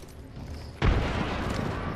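A frag grenade detonates in Apex Legends, a sudden heavy boom followed by a sustained rumbling roar.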